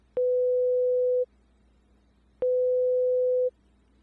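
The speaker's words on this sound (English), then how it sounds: "you just change the difference between the two tones systematically, smaller and smaller, till the listener cannot tell the difference" Two pure sine tones near 500 Hz, of slightly different pitch, used in a pitch discrimination listening test, each about one second long with a clean start and stop, separated by a short silence.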